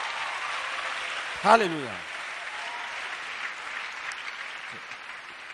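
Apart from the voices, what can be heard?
congregation applauding for Jesus Christ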